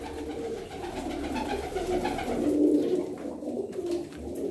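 Pigeons brought from Bulgaria coo steadily at close range, low rolling calls continuing throughout with no talking.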